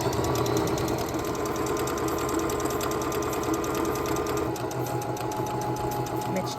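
A sewing machine stitches fabric at a fast, steady mechanical patter, running continuously and close, with a voice talking over part of it.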